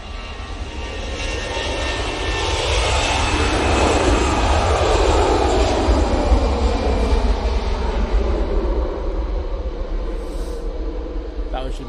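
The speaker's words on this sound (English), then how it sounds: "Easyjet now on the roll." An easyJet Airbus A320ceo jet roars down the runway on its takeoff roll at Manchester Airport, a loud, sustained engine rumble with rising and falling whine as it passes, while a voice talks over it.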